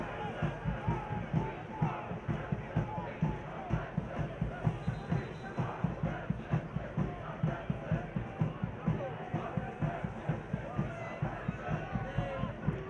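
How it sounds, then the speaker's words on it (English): Sold-out crowd of soccer fans at Breeze Stevens Field rumbles steadily in the background, a broad murmur with rhythmic chanting or drumming pulses, while a commentator talks over it. "It's a sold-out crowd here at Breeze Stevens Field"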